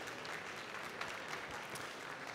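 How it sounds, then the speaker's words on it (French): At a latte art final, an audience applauds the judges with a dense, continuous patter of many hands clapping, heard from a distance at a fairly low level. "Tour d'applaudissements pour nos Merci juges."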